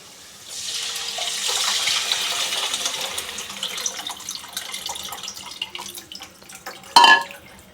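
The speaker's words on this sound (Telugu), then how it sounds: "చింతపండు రసం మిస్కి పెట్టుకున్నాం, ఇప్పుడు వేసుకోవాలి." Tamarind juice is poured into a simmering fish curry, making a steady splashing, trickling pour that lasts several seconds, followed by a sharp metallic clink near the end.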